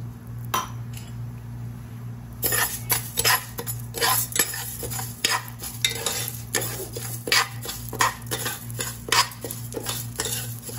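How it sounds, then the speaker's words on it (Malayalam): A spoon scrapes and clinks steadily against a pressure cooker as moong dal is stirred and lightly roasted in ghee, with repeated close metallic strokes and a faint sizzle under a low background hum. "ഇത് കളർ മാറണം എന്നുള്ള ആവശ്യമൊന്നുമില്ല, ചെറുതായിട്ടൊന്ന് വറുത്താൽ മതി."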